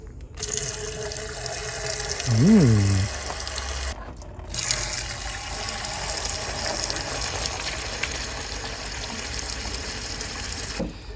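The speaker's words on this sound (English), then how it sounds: "So I need my trusty hose pipe. I'll start spraying." A steady broadband rush of water from a garden hose flushing a Ford Fiesta's coolant system runs throughout, close and continuous, with a brief squeaky tone early and short breaks in the flow.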